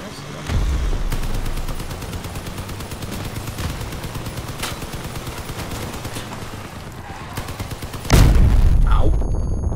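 Rapid automatic gunfire from vehicle-mounted guns in Crossout rattles continuously at close range, punctuated by a few heavier bangs and a loud blast near the end.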